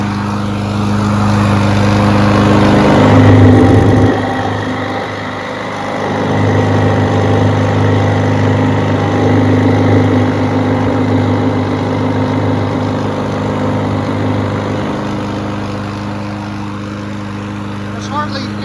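A small engine, likely a lawn mower running on very little gas, hums steadily at a constant pitch close by, briefly swelling early on, with a voice talking over it at times.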